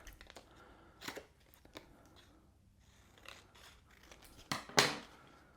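Scissors trim paper for a spring and summer journal: a few quiet, scattered snips and crisp cuts close by, ending in a louder pair of sharp cuts, with near silence between them.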